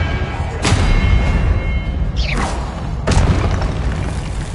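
A Confringo spell explodes in Hogwarts Legacy, a loud booming blast followed by further bursts within a constant roar of combat.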